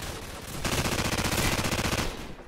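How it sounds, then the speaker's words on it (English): Light machine gun fire in Call of Duty Modern Warfare, a rapid sustained burst of closely spaced shots lasting over a second, loud and near, with no talking over it. "Damn, this LMG is beautiful."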